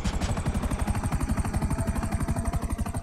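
Helicopter in the video game GTA 5, a steady rapid rotor chop with engine drone, close and loud, continuing evenly throughout without pause.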